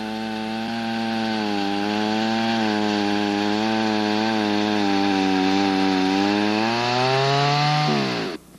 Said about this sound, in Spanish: Aplicando la espada de este modo, no existe peligro de que salte la sierra.